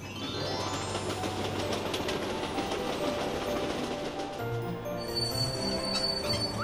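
A cartoon train runs along its route with a steady rolling rumble and faint clickety-clack, loud and continuous, alone with no talk, with a brief tonal hum near the end.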